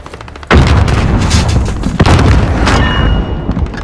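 A rapid string of loud, overlapping blasts from a cluster strike in Warzone, beginning with a sharp boom and rumbling on in dense, crackling bursts, with a second heavy impact midway through.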